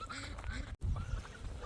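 Farm birds, geese or ducks, honk and call repeatedly in a noisy, overlapping chorus at close range, with a brief cut partway through.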